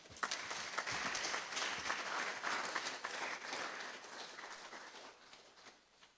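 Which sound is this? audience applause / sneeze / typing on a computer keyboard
audience applause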